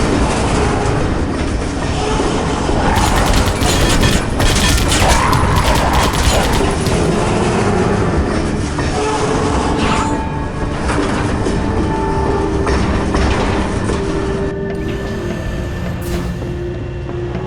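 A train running in the video game Vivisector: Beast Within, giving a steady rolling rumble with rhythmic clickety-clack of wheels on rails and faint mechanical squeals, loud and continuous throughout with no talking.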